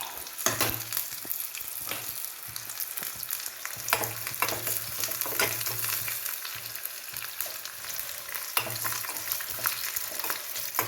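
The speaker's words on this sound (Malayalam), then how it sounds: "കറിവേപ്പില ഇട്ടു. ഇത് മൂക്കുമ്പോൾ നമുക്ക് കറിക്കകത്തേക്ക് എടുത്തൊഴിക്കാം." Curry leaves and onion frying in hot oil for a tempering: a bright, continuous sizzle with crackling pops and occasional stirring scrapes, close and steady, with no voices.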